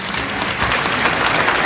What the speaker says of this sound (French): Quand on a dit tout à l'heure complot, tout le monde a applaudi.